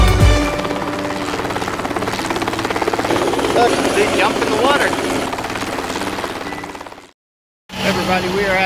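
A helicopter at a Touch a Truck event in Sanford, Florida, whirs loudly and steadily with a rhythmic rotor beat, close by, before a brief dropout and its return.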